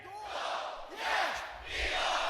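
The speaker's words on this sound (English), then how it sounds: "Somebody in the crowd is really shouting the se, do, yeah." A crowd at a live beatbox battle yells a call-and-response chant, with one member shouting loudly in three rising bursts over the roar of the audience.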